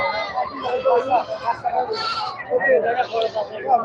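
Goats bleat repeatedly at a busy Sunday livestock market, several wavering calls overlapping close by while people talk throughout.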